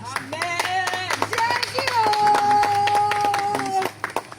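A congregation at a baptism service claps in acclaim for Jesus, the rhythmic handclaps sounding close and steady while voices sing or call out over them.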